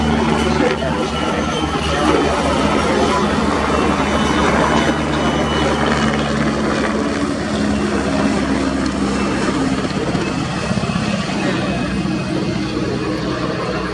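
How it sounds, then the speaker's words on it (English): A loud, steady drone of a PZL-Swidnik W-3A Sokol twin-engine helicopter in flight at an air display holds at close range throughout, its rotor chop and engine whine unbroken. "It's a medium-sized twin-engine multi-purpose helicopter"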